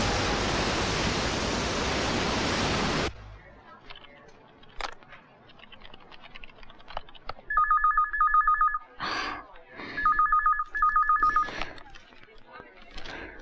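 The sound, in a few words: telephone ringing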